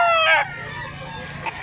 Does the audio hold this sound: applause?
no